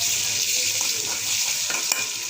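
Ginger-garlic paste sizzles steadily in hot oil with chili and turmeric powder stirred in, a continuous close frying hiss with faint stirring scrapes and no talk.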